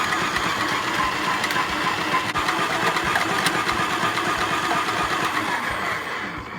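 A Moulinex Fresh Express electric slicer runs through half a cucumber, its motor giving a loud, steady whirring drone that holds for the whole stretch with no one speaking.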